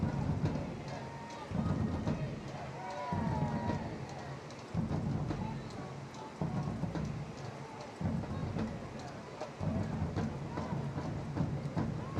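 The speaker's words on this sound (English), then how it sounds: "The rain, it's a lot." Heavy rain pours down steadily throughout a women's football match between Chattanooga FC and Georgia Impact, forming a constant loud hiss with low rumbling pulses underneath.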